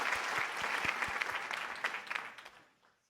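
Audience applause at a high school awards ceremony after a percussion award is announced: a steady wash of clapping with a few sharp louder claps, fairly distant, tapering off to silence near the end.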